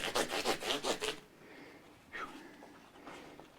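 An Epiphone Les Paul Junior guitar gets a final going-over with 12,000 grit, giving a quick run of soft rhythmic rubbing strokes, followed by fainter, scattered scraping and handling sounds.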